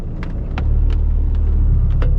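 A learner's car engine revs as the accelerator is pressed on an uphill start, its close, steady low rumble swelling partway through and holding.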